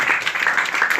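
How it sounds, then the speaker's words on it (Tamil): A church congregation at a gospel service in Chengalpattu claps hands together in a loud, rhythmic burst of applause, close and steady throughout. "கைதட்டுங்க பாருங்க"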